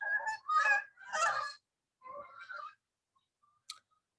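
A few geese give several honking calls in two short bursts, fairly close, then fall silent apart from a faint click.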